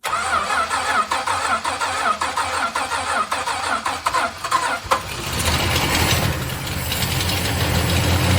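A VK Dodge Pacer ute engine cranks for several seconds with rhythmic starter chugging, then catches and fires into a loud, steady running roar.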